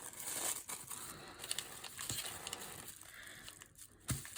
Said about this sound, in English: So I'm going to crinkle it up as well as when I'm adding it. And I'm probably going to just rip and have some overlaps.